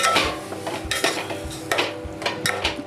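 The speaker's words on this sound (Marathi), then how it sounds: "आता चांगला आपण हे ढवळून घेऊया." A spoon stirs mango raita with spices in a bowl, giving repeated clinks and scrapes against the bowl in an irregular rhythm, close and fairly loud.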